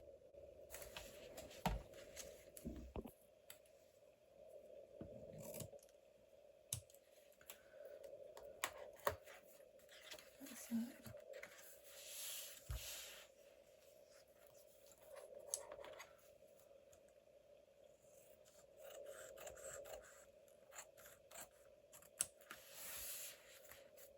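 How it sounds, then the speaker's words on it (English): Scissors snip through a paper journal page, a quiet close series of irregular crisp cuts over a faint steady hum. "Now I'm going to cut the second page."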